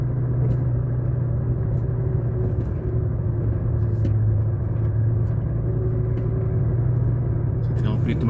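A truck engine rumbles and strains steadily in slippery mud as the wheels fight for grip, with a voice talking over the low drone.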